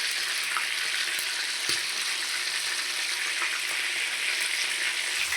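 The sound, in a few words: chicken pieces frying in oil, turned over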